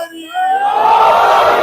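At a Muslim majlis gathering in an azakhana, a crowd shouts a loud, sustained response to a religious slogan, many voices merging into one swelling roar that holds for over a second.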